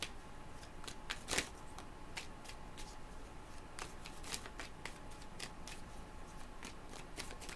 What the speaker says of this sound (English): While I'm shuffling